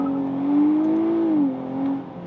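A 2023 Nissan Z performance engine revs steadily, its tone climbing briefly and then dropping as the car downshifts into first gear, a loud, close, continuous drone with no talking.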